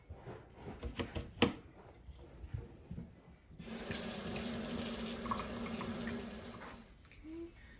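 A few soft clinks and handling noises, then a kitchen tap runs steadily into a sink, water splashing over strawberries held beneath it.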